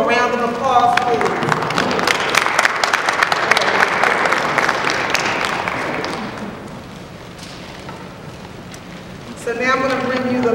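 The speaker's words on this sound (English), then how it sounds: "So can we give them a round of applause, please?" An audience at a high school student town hall gives a student panel a round of applause, loud and dense at first, then thinning out before a voice speaks at the end.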